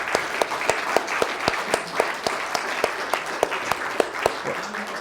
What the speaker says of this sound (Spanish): Démosle un fuerte aplauso a los hermanos